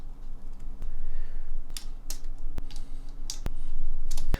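Plastic keycaps being pulled off and pressed onto mechanical keyboard switches while stabilizers are compared, heard as a few sharp, close clicks and snaps spread irregularly over a low background hum.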